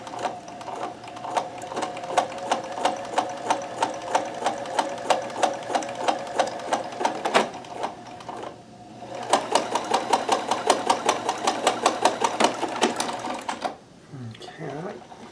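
A Kenmore 158.1914 sewing machine chain stitching gives off a fast, steady, rhythmic clatter that stops briefly midway, starts again, then cuts off, followed by a short voice.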